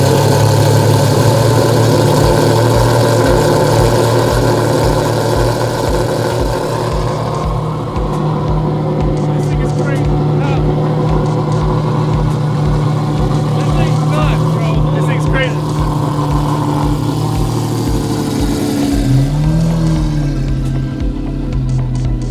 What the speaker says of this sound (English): I will get inside of this Revolto and start it up for you guys.